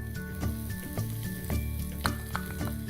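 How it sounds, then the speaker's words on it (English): Spring onion whites frying in a pan for Indo-Chinese Schezwan sweet corn fried rice: a soft, steady sizzle with faint stirring over a tonal background. "You fry these onions till they're translucent."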